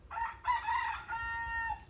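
A rooster crows at a moderate distance in rural Pangasinan, Philippines, a drawn-out cock-a-doodle-doo with a brief break, heard alone over a low background hum.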